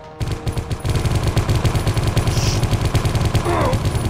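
Rapid automatic gunfire from a video game gun in Geist, a loud continuous stream of clattering shots with steady rhythm throughout.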